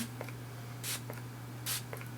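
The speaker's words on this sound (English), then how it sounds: "I'm going to use some of the ColourPop All-Star Face Setting Spray." ColourPop All-Star face setting spray is misted in two quick, soft hissing bursts roughly a second apart over a steady low electrical hum, with faint small clicks between them.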